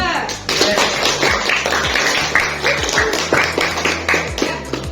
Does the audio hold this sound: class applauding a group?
yes